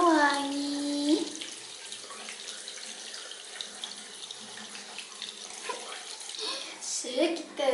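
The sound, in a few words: water running while bathing a toy baby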